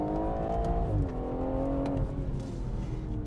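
A BMW M140i engine pulls hard through the gears, its note rising and dropping at each shift, steady and close with no talking.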